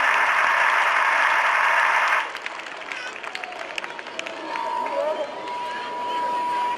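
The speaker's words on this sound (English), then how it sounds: "Parents, please give them a big round of applause" Applause from parents at a high school sports meet, a dense wash of clapping for the first two seconds that breaks off into scattered crowd noise and faint voices.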